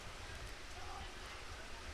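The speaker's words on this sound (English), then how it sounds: "Rain getting a bit heavier again." Rain falls steadily during an outdoor girls' lacrosse game, a faint, even hiss of drops filling the air with no clear voices.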